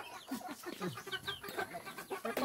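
Chickens on a rural homestead clucking repeatedly in short, busy bursts, close by and fairly soft, with no talk over them.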